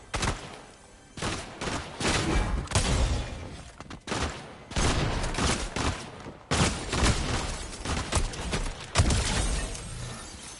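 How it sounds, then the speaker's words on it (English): Repeated bursts of gunfire from a gun fired from the hip in Fortnite, loud and close, arriving in several sustained volleys separated by short gaps, with no talking. "I think I like firing it from the hip better than I do up close."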